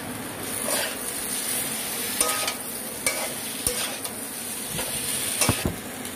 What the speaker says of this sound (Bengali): ফ্লেমটা লো করে দিয়ে মশলাটা আলু পটল চিংড়ির সঙ্গে ভালো করে মিক্স করে নিয়েছি।